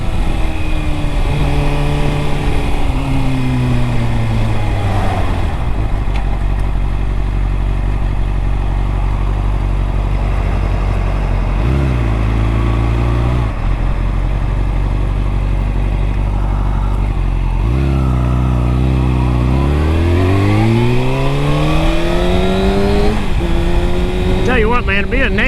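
Engine of a 2009 Kawasaki ZX6R sport bike on a ride, loud and close, with rising and falling revs, gear changes and steady wind noise throughout.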